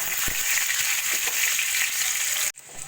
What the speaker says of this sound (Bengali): রসুনগুলোকে একটু হালকা সোনালি করে ভেজে নিয়ে দিয়ে দেবো